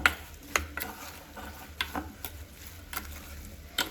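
Curd is mixed into soya chunks with biryani masala, giving soft, irregular scrapes and taps of a spoon against the vessel, fairly quiet and close, over a faint background hum.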